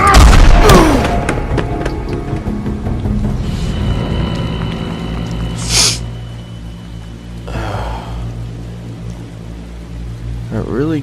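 Loud booming gunshots from the video game The Wolf Among Us ring out, a sharp blast at the start and two more shots later, with a sustained low rumble between and a voice gasping briefly.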